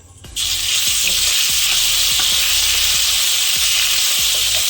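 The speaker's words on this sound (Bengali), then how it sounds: "আদা আর জিরে বাটাটা একটু হালকা করে তেলে ভেজে নেবো" Ginger and cumin paste frying in hot oil for a koi fish curry with giant taro, a loud steady sizzle that starts abruptly and continues throughout, with faint spoon scrapes and taps recurring under it.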